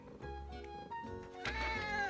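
A cartoon kitten meows twice, a short high mewing call followed by a longer louder one, close and clear over soft animated background music, with no speech.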